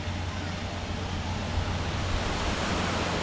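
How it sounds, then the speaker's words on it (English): A waterfall at the Sandals La Toc resort in St. Lucia gives off a steady broadband rush of falling water, constant and fairly loud throughout, with no voices over it. "This waterfall is nice."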